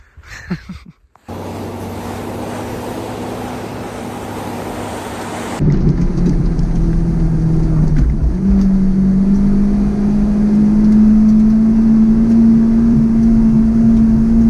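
A Mitsubishi Pajero Mini climbing in first gear in 4-low toward a volcano, its engine revving hard as a loud sustained drone that rises steadily in pitch, after an earlier quieter stretch of road and wind noise.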